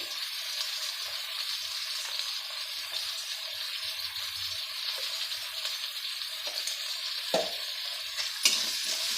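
Drumstick-leaf rice being stirred in a hot pan with coriander powder and pink salt, a constant bright sizzle with a few sharper scraping clicks near the end.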